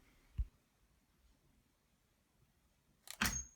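A homemade six-coil coilgun fires with a single sharp, loud crack and a brief burst of noise, preceded by a faint click a few seconds earlier in otherwise quiet surroundings.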